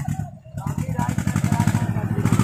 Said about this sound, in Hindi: ये जो ट्रैक्टर है यार इसकी जो इंजन है ये ज़्यादा बड़ा भी दिखाई नहीं दे रहा है